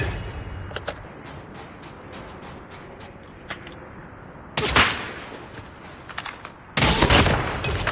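Gunfire in the mobile shooter Call of Duty Mobile, scattered single shots and short bursts that give way to two loud sustained automatic volleys, close and alone.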